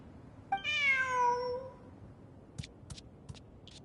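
A cat in the video game Genshin Impact gives one clear, drawn-out meow, followed by a few soft ticking sounds in a quiet scene.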